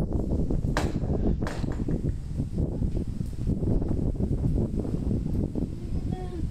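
Strong gusts from Cyclone Remal roar past a home balcony with steady loud wind buffeting the microphone. Rustling and rattling can be heard throughout.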